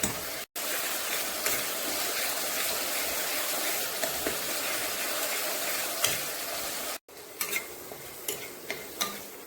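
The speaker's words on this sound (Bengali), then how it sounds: "এখন এই সব কিছু ভালো করে ভেজে নেব মশলাটা" Spice paste of masala with ground spices frying in oil in a pan, a continuous near sizzle broken by two brief silences, with spatula stirs and light scraping clicks toward the end.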